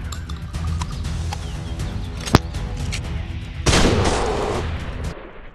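Gunfire from an AR rifle in a video game: scattered single shots crack under a steady background, then a louder sustained burst of noise bursts in midway and fades at the end.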